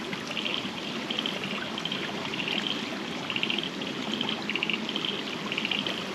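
A creek flows steadily along a hiking trail in Heathcote National Park, its continuous watery trickle and babble filling the scene at close range without any voices.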